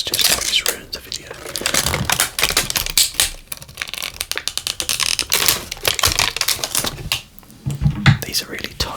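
Tight plastic packaging around diecast toy cars being pried open close-up, a dense stream of crinkling, crackling and clicking plastic with brief whispered speech mixed in.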